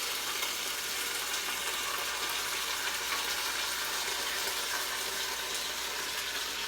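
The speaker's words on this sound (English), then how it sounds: "It's got a nice sizzle going" Steady broadband sizzling hiss from an Instant Pot warming up with bones and apple cider vinegar for bone broth, continuous and even throughout with no talking.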